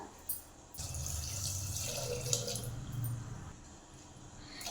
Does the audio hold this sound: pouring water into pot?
yes